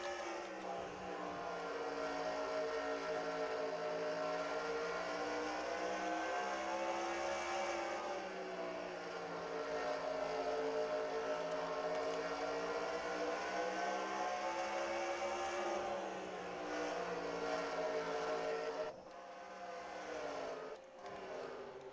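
In the video game NASCAR Racing 2003, stock cars race at the Food City 500, making a continuous loud, harmonic engine roar that sweeps gently in pitch as the pack runs, with a brief dip near the end.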